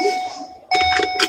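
A short electronic tone rings steadily, then a sharper patterned chime of beeps starts abruptly, loud and alone with a little background noise.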